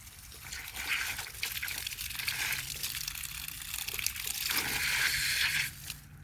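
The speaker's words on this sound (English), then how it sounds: "Oh no, I have another water leak." Water leaking from a pipe near a driveway, with a steady, faint hiss and trickle of running liquid that continues evenly before tapering off near the end.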